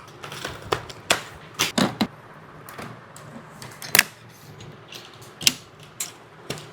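A RAM stick is pressed into a PC motherboard slot during a desktop build, giving a run of sharp plastic clicks and latch snaps, close and irregular, with small handling rattles between them.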